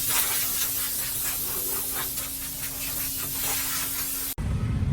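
Spray gun blasting petrol over a cleaned part from a 2015 Toyota Corolla, a steady close hiss with a constant hum that stops abruptly near the end, followed by a brief burst of different noise.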